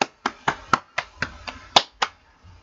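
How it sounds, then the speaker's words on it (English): About nine loud, close, separate claps in a slow, slightly uneven rhythm, sharp hand strikes with quiet gaps between them, given as the group applauds itself. "everybody give yourself a round of applause"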